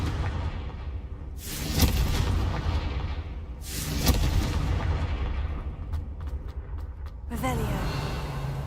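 Fire-blast Confringo spells explode in Hogwarts Legacy gameplay, a few booming impacts with whooshing tails, followed by rapid sharp crackles and a later burst, over game ambience with occasional voice.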